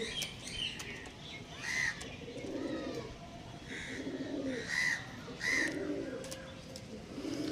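Kalshira and Phulshira tournament-grade young pigeons coo in repeated low, throaty bursts, several rolling calls close by with faint chirps and a steady background hum, no talking.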